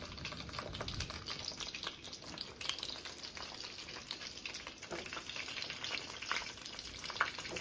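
Fresh home-grown eggplant pieces fry in a pan with a steady, close crackling sizzle and occasional stirring clicks, with no voices.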